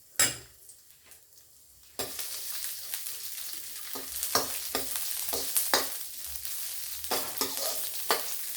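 Garlic cloves and green chillies sauté in hot oil, a quiet start giving way to a loud, steady close sizzle punctuated by frequent spatula scrapes and taps against the pan.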